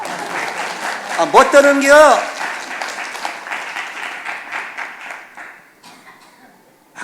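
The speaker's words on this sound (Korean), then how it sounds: "이럴 때 박수 한번 쳐" A church congregation at a Sunday worship service claps in a dense, sustained burst while someone speaks over it; the applause gradually thins and fades toward the end.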